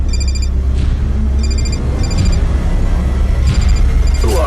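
A telephone in a movie rings loudly in repeated bright electronic bursts over a steady low rumble, with no talking.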